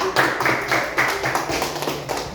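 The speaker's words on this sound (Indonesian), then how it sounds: "Kita kasih tepuk tangan buat teman-temannya." Classroom applause as students clap for their classmates, a dense quick patter of many hands close by, lasting a couple of seconds.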